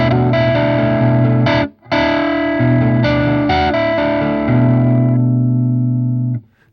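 Ibanez Prestige AZ2200 electric guitar on its humbucker pickup, a thick distorted tone with effects, played as chords and short riffs with one brief pause, then a long ringing chord that cuts off.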